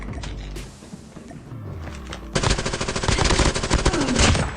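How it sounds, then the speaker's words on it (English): Call of Duty Mobile video game audio: mechanical clicks of a magazine change, then a dense burst of rapid automatic gunfire that grows louder and continues to the end. "Changing mag."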